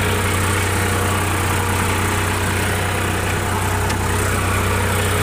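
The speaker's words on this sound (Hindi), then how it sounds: "देखो भाई किधर जा रहा है ट्रैक्टर" A Sonalika 42 Sikander tractor engine runs loud and steady at close range, a constant low diesel drone with no breaks throughout.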